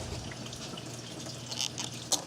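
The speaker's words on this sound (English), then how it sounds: "we'll let that drain" Fluid drains out of a Ford Ranger during an A/C repair, a steady close trickle and splash of liquid with a few faint drips and knocks.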